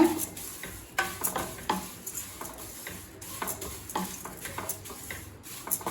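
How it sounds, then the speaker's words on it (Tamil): Flattened rice (aval) dry-roasts in a pan over low heat, with a faint, soft rustle and light scraping taps as it is stirred, plus a few quiet clinks, with no talk. "2 கப் அவல் சேர்த்துக்கலாம். இப்போ ஸ்லோலே வச்சு நல்லா வறுத்துக்கலாங்க."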